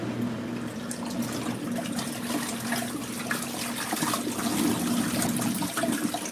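Water sloshing and splashing inside an LG ThinQ washing machine during a wash cycle, a continuous churning wash with a low steady hum underneath, fairly faint.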